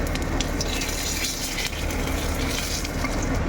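Close, steady hiss and crackle of cumin, dried red chillies and bay leaves frying in hot oil in a wok, continuous and fairly loud with no voices.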